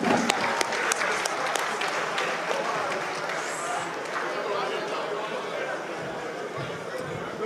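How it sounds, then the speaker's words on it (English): An audience at a Nigerian political gathering breaks into loud, sustained applause, dense clapping with scattered cheers and crowd murmur that stays steady throughout. "Please a round of applause for our living heroes."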